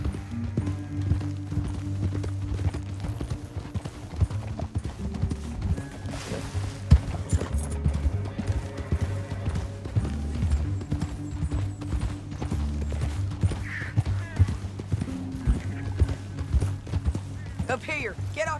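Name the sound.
horse hoofbeats while riding, from video game Red Dead Redemption 2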